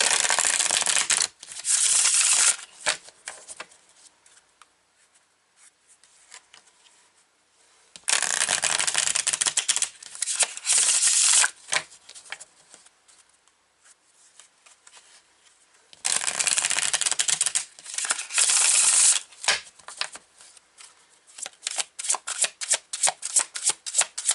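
A deck of oracle cards is shuffled in three long, crisp bursts of riffling and rubbing, separated by near-silent pauses, close and fairly loud, with no talking.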